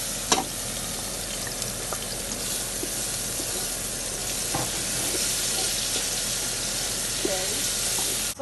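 Chopped onion frying in a pan for fried rice with roasted chicken: a continuous bright sizzle runs steadily throughout, with a few faint clicks of stirring and no voices.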